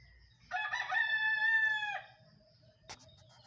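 A rooster crows once, a loud drawn-out call lasting about a second and a half, followed by a faint click in an otherwise quiet setting.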